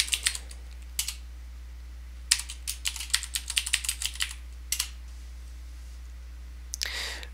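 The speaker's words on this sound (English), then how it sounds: "Now I'm going to type sudo apt-get install" Computer keyboard keys clicking in short bursts as a terminal command is typed on an Ubuntu machine, with crisp close taps separated by brief pauses over a steady low hum.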